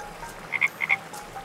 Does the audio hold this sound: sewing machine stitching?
no